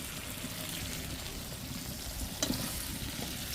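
Fried chicken and potato pieces tipped into sizzling spice masala for cashew chicken gravy, a steady dense frying hiss throughout with a brief clatter of stirring near the end, close and fairly loud.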